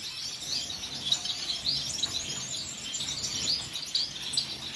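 Finches, including Gouldian, owl, star and blue-faced parrot finches, kept in breeding cages give a steady chatter of small, high chirps and tweets from several birds at moderate distance.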